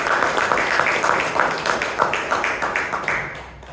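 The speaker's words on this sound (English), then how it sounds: "Let's give her a round of applause" Round of applause at a Toastmasters club meeting in Bangalore, steady dense clapping from a small group that holds for several seconds, then fades out toward the end.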